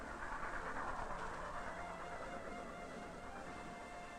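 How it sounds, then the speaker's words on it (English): Oil-burning locomotives haul refrigerated freight cars across California mountains and deserts, heard as a faint, steady rolling rumble of a moving train with no voices. "pulled eastward over mountains and deserts by oil-burning locomotives"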